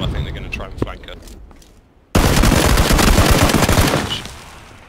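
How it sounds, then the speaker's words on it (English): Gunfire in PlayerUnknown's Battlegrounds: after a stretch of scattered shots and muffled talk, a sudden loud, sustained burst of rapid automatic fire erupts up close and continues for about two seconds before tapering off. "Your scope when you're firing through a wall like that."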